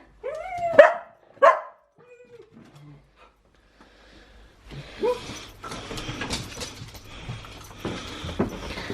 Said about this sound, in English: What are you two barking at?